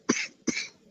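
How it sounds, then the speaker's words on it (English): A person coughs twice in quick succession, close and fairly loud, each a short sharp burst with a breathy tail, and a third cough begins just at the end. "I was trying to hold a cough in while I said that."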